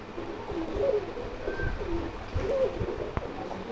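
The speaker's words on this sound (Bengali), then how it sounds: "দেখছেন ভাই কতটা পরিমাণ ডাকে" A pair of pigeons gives soft, repeated cooing calls close by against faint background noise, several rolling coos spread over a few seconds.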